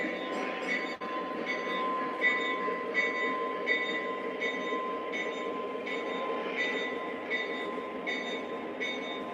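Lionel and MTH model trains run on a home layout track, giving a steady, continuous rolling rumble and metallic ringing with periodic clicking rhythm as cars pass over rail joints, close and even in loudness throughout.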